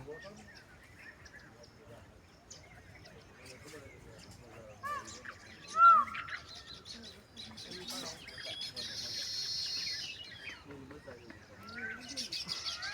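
Birds chirp and call around a temple set in forest land, with a louder call standing out near the middle and a sustained bright twittering later, all under quiet ambient background.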